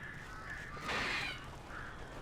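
Crows caw in the video game Alan Wake, a few harsh, fairly close calls rising to one louder caw in the middle over a low ambient hum.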